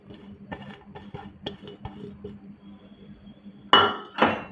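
A spoon stirs chopped onion, green chili and ginger into a batter in a bowl, making light irregular clinks and taps that end in two louder, rougher scrapes, with no talking.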